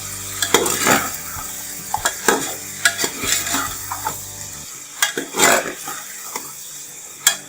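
Chicken frying in oil in a pan for dhaba-style pulao, with a steady sizzle and a metal spoon scraping and stirring in repeated close bursts, plus clinks against the pot.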